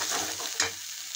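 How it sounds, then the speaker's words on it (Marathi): A spice mix of red chilli powder, garam masala and coriander powder sautés in a pan, giving a brief, steady close sizzle with a light stirring scrape. "चांगलं परतून घ्यायचं।"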